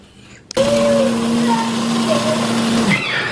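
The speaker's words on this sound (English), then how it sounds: "I've been meaning to grind up these coffee beans for a really long time." An electric grinder whirs through a batch of coffee beans in a home kitchen, starting abruptly and holding a loud, steady high-pitched drone for about two and a half seconds before cutting off.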